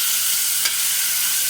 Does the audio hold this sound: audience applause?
no